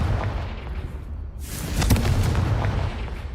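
A Confringo fire spell explodes in Hogwarts Legacy, a muffled boom that swells at about 1.5 seconds and then rumbles loudly for the rest of the clip, with no speech.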